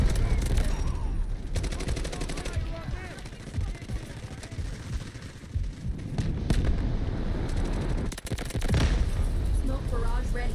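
Guided missile strike in the game Delta Force sets off a loud, sustained barrage of explosions and rapid blasts across the whole span, with bursts near the start and a heavy impact late on, while a voice talks over it.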